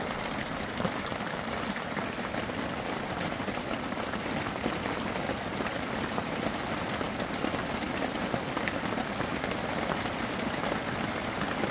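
Steady rain pattering on outdoor surfaces in a garden with tomato plants, a dense continuous hiss of drops lasting throughout, fairly loud and close with no voices.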